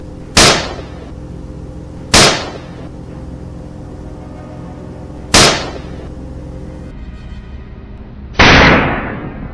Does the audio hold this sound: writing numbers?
no